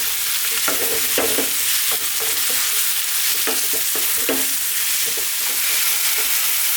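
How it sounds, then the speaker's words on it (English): Boneless, skinless chicken pieces frying over fairly lively medium-high heat and tossed in a pan, a loud close sizzle broken by repeated irregular scraping stirs. "Let's throw this around in the pan for about 4 to 5 minutes."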